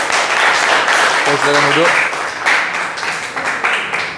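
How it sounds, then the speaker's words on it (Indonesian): Classroom applause for a student group after a coding presentation, steady broadband clapping from many hands running throughout, with a teacher's voice speaking over it. "tepuk tangan untuk kelompok Ibai"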